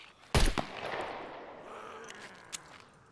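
A single loud, sharp rifle shot like a hunting rifle in the survival game SCUM, with a long echoing tail that fades over a few seconds and a faint distant pop near the end.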